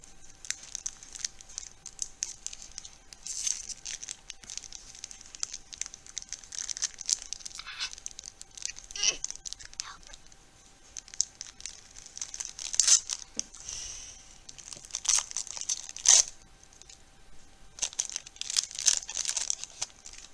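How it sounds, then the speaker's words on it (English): A foil pack of Aether Revolt trading cards being torn open, with long stretches of close crinkling and ripping foil and brief sharper tears scattered throughout. "now we're going to open another pack of Aether Revolt cards"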